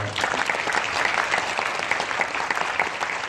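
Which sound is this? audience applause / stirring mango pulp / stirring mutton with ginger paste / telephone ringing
audience applause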